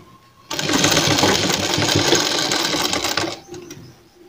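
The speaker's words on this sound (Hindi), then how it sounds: "इसी तरह कोना हमें इधर मोड़ना है और इसको कोना बना लेना है" Sewing machine stitching the folded corner of a cotton kurti, a loud steady mechanical whir running continuously for about three seconds before stopping abruptly, followed by quieter handling sounds.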